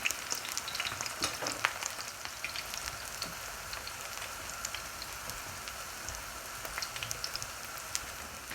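Potato chapli kebabs frying in oil over a low-medium flame, a soft, even crackle and patter like light rain, with occasional sharper pops, no speech.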